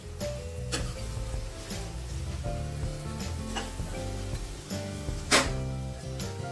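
Prawns sautéing in a masala for a prawn curry, a steady close sizzle with scraping stir strokes and occasional utensil clicks, no voices.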